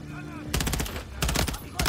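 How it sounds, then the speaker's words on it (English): Automatic gunfire in Call of Duty: Modern Warfare 3 on PS5, during a prison breakout. Three loud, rapid bursts crackle close by, separated by short gaps with a faint background hum. "There's enemy fire!"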